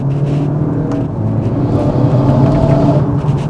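Modded 2018 VW Golf 7.5 GTI running on boost, a deep rumbling engine and exhaust drone with steady revving, loud and close with no talk over it.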